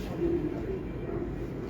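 A pigeon coos softly and briefly, a low murmuring call over a dull background hum.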